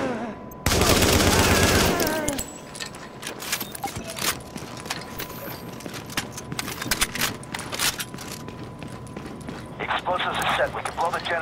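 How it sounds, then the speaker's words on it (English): Rapid bursts of gunfire in The Division crackle continuously, loud and close, with sharp shots scattered over a dense roar of action. "We got gunfire at the front gate."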